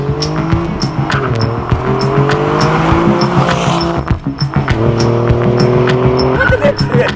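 Alfa Romeo Giulia Quadrifoglio race car braking hard, tyres squealing in repeated sharp bursts over a loud, roaring engine that drops in pitch, close and continuous with a voice faintly underneath.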